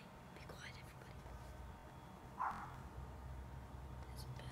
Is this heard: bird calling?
yes